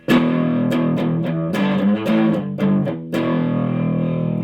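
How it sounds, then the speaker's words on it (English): Heavily overdriven electric guitar through an amp with its preamp gain pushed well above the master volume, playing loud sustained distorted chords in short bursts with brief gaps, alone with no talking. "So if this volume is higher than this one, you get distortion."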